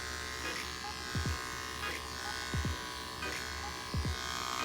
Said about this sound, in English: Shaving the mohawk.